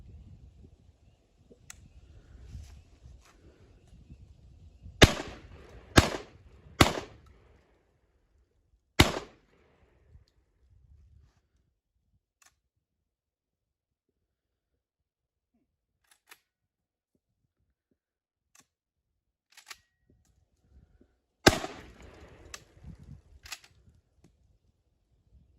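Beretta 1301 semi-automatic shotgun firing light loads of Winchester ammunition, giving sharp, loud shots: a quick string of three, a single shot, then a closing burst, with quiet gaps and small clicks between them.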